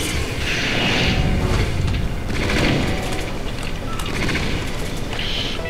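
Rapid repeated rocket launcher blasts and booming explosions in the FreeDoom video game, a dense continuous barrage of loud firing and impacts with no pauses.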